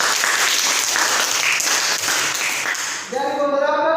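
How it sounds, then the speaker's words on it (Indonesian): Applause from a classroom audience cheering group 3, a dense burst of many hands clapping for about three seconds, then it fades out as a voice begins to speak. "Berikan aplaus untuk kelompok 3."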